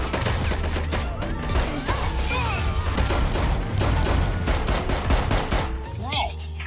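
Dense gunfire, rapid bursts of shots and automatic fire layered with crashes, heard over a phone line in a crime drama about drug gangs, loud and continuous.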